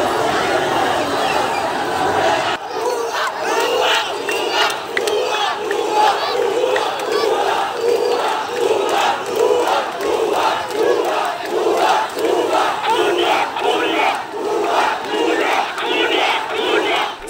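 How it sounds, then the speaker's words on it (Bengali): Students on a protest march toward the Shaheed Minar chant slogans as one large crowd, with loud rhythmic call-and-response bursts repeating steadily under constant crowd noise. "এ সময় শিক্ষার্থীরা বিভিন্ন ধরনের স্লোগান দিতে থাকেন।"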